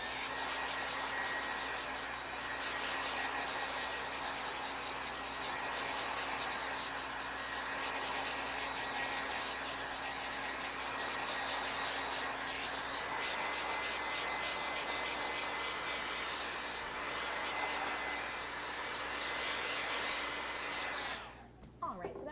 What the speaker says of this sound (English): I'm going to hit it with my hair dryer.